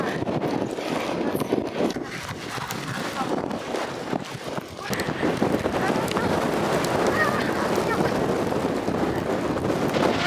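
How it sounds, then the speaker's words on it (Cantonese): Strong gusting wind and heavy rain at Gullfoss waterfall in Iceland, a loud continuous roar buffeting the microphone, with faint voices mixed in. "超大風，好大雨"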